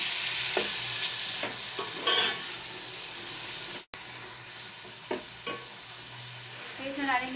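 Tomatoes hitting a hot pan of garlic-ginger paste for chana pulao, with a steady sizzle as they are stirred and scraped, plus a brief cut partway through.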